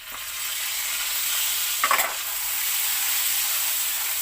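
Sugar sizzles steadily in a hot pan as it is sautéed to caramelize for buttered garlic shrimp. The hiss is close and even, with one brief scrape of stirring partway through and no talking.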